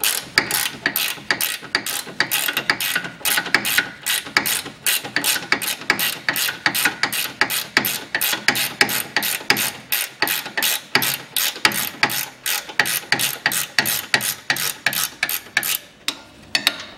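Ratchet wrench with an 18 mm socket loosening a front suspension control-arm bolt on a 2010 Chevrolet Cruze 1.6, a loud, steady run of rapid clicking strokes close by for most of the clip, with no talking.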